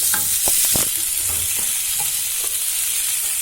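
Pumpkin pieces cooking for roasted pumpkin soup in a pan: a steady, loud broadband sizzle and hiss of frying, close up, with a few light stirring scrapes near the start and no talk.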